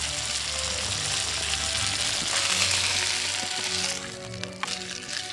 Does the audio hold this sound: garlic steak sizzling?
yes